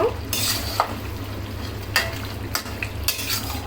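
Panch phoron spices frying in oil for a Bengali achari beef bhuna, with a spoon stirring and scraping the pan in several short, close bursts over a steady low sizzle and hum.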